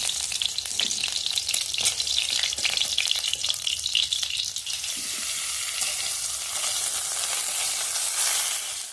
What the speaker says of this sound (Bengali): ফুলকপি আমার ভাজা হয়ে গেছে, আমি এবার তুলে নিচ্ছি ফুলকপিগুলো